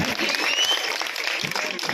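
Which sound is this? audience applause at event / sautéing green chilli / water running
audience applause at event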